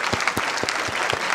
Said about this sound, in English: I want you to have a big applause for all the heroes that I have listed above,